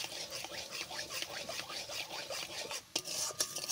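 Sugar frying in a pan for a semolina-filled syrup sweet, stirred with a utensil that gives a steady scraping, rasping rhythm close up, with a brief pause near the end and no talking.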